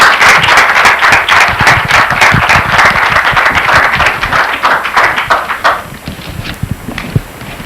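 An audience claps in loud, close applause for a speaker at an evening event, dense at first and thinning into scattered individual claps before fading out.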